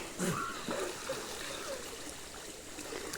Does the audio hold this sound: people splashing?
yes